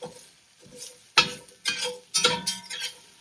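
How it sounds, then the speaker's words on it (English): Onions are stirred in a pan, giving several scraping, sizzling strokes in an uneven rhythm, close and moderately loud with no talking. "add in our onions. Stir."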